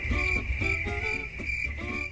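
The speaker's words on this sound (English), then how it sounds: "Crickets. Crickets from Haley's side of the table." Steady, continuous cricket chirping played as a comic sound effect, a sustained high insect trill running unbroken through the brief stretch, moderately loud and alone with no talk over it.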